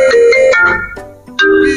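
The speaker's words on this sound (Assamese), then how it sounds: "এই ৰহে তাইয়ে ফোন কৰিছে" An incoming call sets off a phone's ringtone, a loud, close electronic melody of stepped tones that pauses briefly and then resumes.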